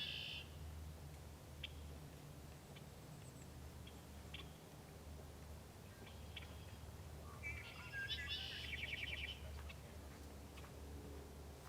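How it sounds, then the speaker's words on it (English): An early spring songbird sings faintly in short bursts in February woods against a quiet outdoor hum, with a clearer trilling phrase toward the end. "That bird is one of the first harbingers of spring."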